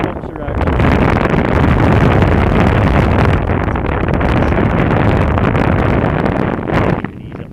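Strong wind rushes past a paraglider over Chamonix, a loud, steady, broadband roar that holds for most of the stretch before easing near the end.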